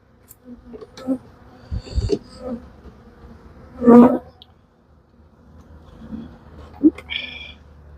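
Honey bees buzz in short bursts during a hive inspection while bees are shaken out of supers, with a louder burst near the middle amid handling noises and faint talk.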